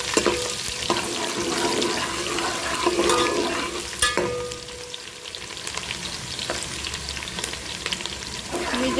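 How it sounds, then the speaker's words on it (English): Chopped onion sizzles steadily in hot oil with a dense crackling hiss, and a spoon stirs and scrapes the pan now and then, close and fairly loud, with no speech. "So heat oil and add the onion,"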